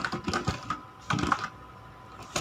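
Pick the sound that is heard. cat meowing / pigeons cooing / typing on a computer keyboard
typing on a computer keyboard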